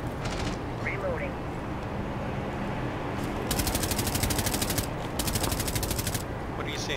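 Rapid automatic gunfire from a Rainbow Six Siege match on the Skyscraper map, two sustained bursts in the second half, loud over constant game ambience, with brief quieter shots earlier.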